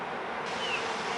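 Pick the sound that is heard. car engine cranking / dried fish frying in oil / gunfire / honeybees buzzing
honeybees buzzing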